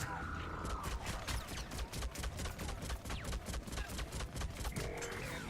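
Rapid gunfire in a video game, rattling in fast repeated bursts across the whole stretch at a fairly low level, with a faint tonal game sound at the start and end.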